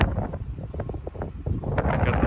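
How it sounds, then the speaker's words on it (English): Wind gusts roar across an outdoor microphone on a changeable Pacific Northwest day, a steady low rumbling buffet that swells louder toward the end, with no voices. "If you hear the wind in the background"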